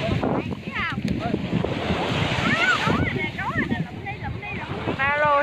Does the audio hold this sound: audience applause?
no